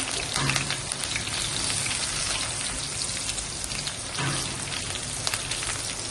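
Cumin, green chili and curry leaves frying in hot ghee for sabudana khichdi, a steady dense crackling sizzle that holds loud and close throughout with a few sharper pops.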